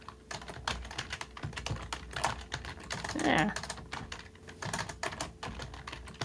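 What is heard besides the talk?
furious typing on a computer keyboard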